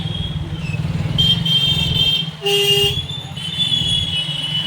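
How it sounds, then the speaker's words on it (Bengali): A motorbike riding through a jammed road beside Payradanga railway station, engine drone steady and close, with a few short horn honks from surrounding traffic cutting through. "পায়রাডাঙ্গা স্টেশনে নেমে তারপরে এখান থেকে বাইকে করে যাচ্ছি খেলার মাঠে"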